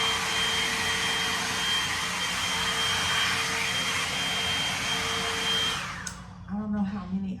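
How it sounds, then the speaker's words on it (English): A blow dryer runs with a steady loud whooshing roar and a faint whine while drying hair, then switches off near the end, leaving a brief quiet tail with a few small sounds. "go through them with the blow dryer to make them fluffy"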